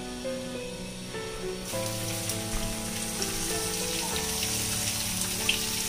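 Finely chopped medium onions frying in hot oil with spices for Malvani chicken sukka, a steady crackling sizzle that grows louder partway through, with faint tones in the background.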